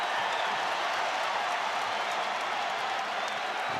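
Arena crowd of about 18,000 at a BYU versus Kansas State men's college basketball game, a dense continuous roar of cheering and applause filling the space, steady and loud without breaks.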